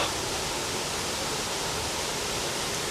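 A waterfall, heard as a steady broadband rush of falling water, close and constant for a few seconds with no voices.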